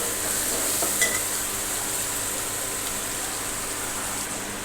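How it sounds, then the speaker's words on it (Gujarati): Tomatoes sautéing in oil in a pan give off a steady, soft sizzle that holds evenly throughout, with a faint clink near the start and no voices. "તેલમાં સાંતળી લેશું"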